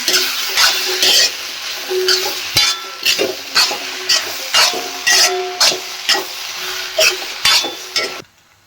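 A mushroom curry frying with coriander leaves is stirred vigorously, and a spoon scrapes and clatters against the pan in a quick, uneven rhythm over a constant close sizzle that cuts off abruptly at the end.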